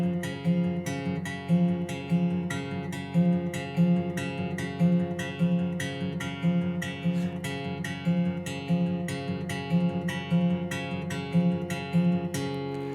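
Fingerpicked acoustic guitar in a steady eighth-note pattern alternating thumb, index and middle fingers, played quickly and evenly on its own with a repeating rhythmic pulse, close and clear, with no talking.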